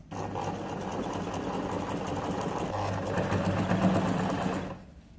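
Sewing machine running steadily as it stitches a bias strip around the curves of a neckline, a continuous close whirring hum for about five seconds before stopping.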